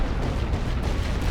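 Artillery fire in a Great War Western Front video game battle: a dense, continuous rumble of distant guns and blasts with no single shot standing out, steady in loudness throughout.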